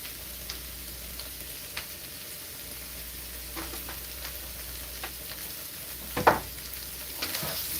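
Vegetables stir-frying with sweet and sour sauce give a soft, steady sizzle with scattered light ticks and one louder clatter near the end, heard alone at low level.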